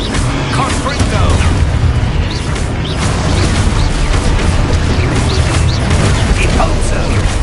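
A Confringo blasting curse in Hogwarts Legacy lands amid busy combat, loud dense rumbling bursts and crackling impacts piling up continuously, with spellcasting voices over the noise.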